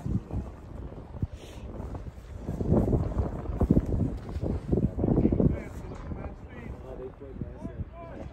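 Wind of 18 to 19 mph buffets the microphone outdoors at a soccer match, a low rough rumble under people talking, strongest in the middle stretch.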